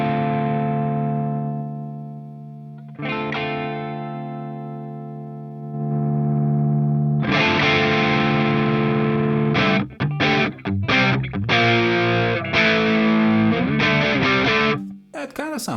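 An electric guitar plays through an amp tone captured by a ToneX One: two ringing chords decay slowly, then a burst of rhythmic strummed and muted chords, close and clear with light reverb.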